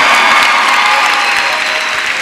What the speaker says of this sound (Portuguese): Dá uma salva de palmas para o gigante aí.